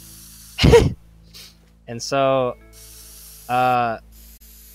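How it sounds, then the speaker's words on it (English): Spray paint in the video game Teardown, one short, sharp hissing burst near the start, followed by someone talking. "Wow, spray paint reaches pretty far."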